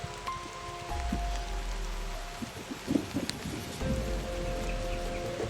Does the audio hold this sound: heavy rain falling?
yes